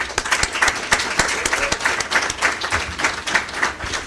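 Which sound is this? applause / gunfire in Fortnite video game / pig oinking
applause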